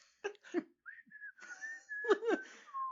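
Short melodic whistling, a few sliding tones, mixed with breathy bursts of laughter or coughing nearby.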